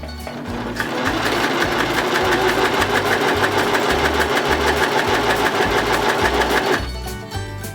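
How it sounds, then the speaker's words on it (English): A sewing machine stitches wrist wraps for weightlifting in one loud, steady run of rapid mechanical chatter, starting abruptly and stopping after about six seconds, with no talking. "I'm going to put my needles down and start sewing."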